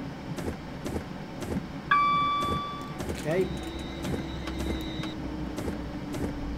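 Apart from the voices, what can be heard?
train pulling into platform and stopping, Train Simulator 2019 video game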